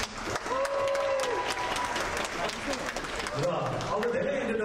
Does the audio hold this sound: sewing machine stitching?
no